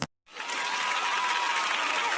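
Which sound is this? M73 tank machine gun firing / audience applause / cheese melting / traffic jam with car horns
audience applause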